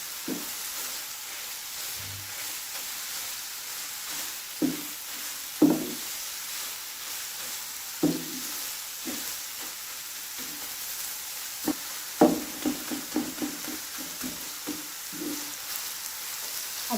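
Grated beetroot halwa sizzles softly as it roasts in a pan, while a spoon scrapes and knocks against the metal in irregular strokes as it is stirred.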